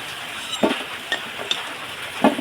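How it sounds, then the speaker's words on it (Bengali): Potatoes fry in oil in a pan with a soft background sizzle, broken by a few quick stirring scrapes and taps of a spatula. "আলু লাল করে ভাজা হয়ে গেছে দেখুন তুলে নেব এবার"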